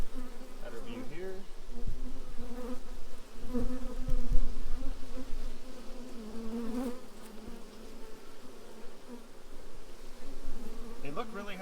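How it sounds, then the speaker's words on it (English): Honey bees buzz steadily around a double deep brood box hive, a dense hum of many insects with individual bees droning close past the listener. "They're certainly guarding their hive. They're no-nonsense bees."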